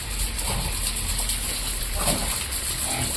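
Water splashes and gushes steadily while a pig is bathed, a continuous close wash with a few louder splashes and no talk.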